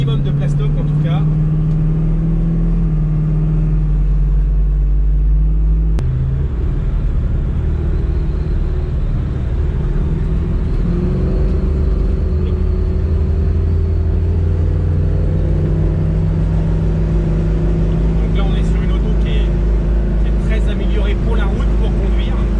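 A 1968 Ford Mustang Fastback driving along, its engine giving a loud, constant low rumble with rattles and vibration from the old metal body, while someone talks over it.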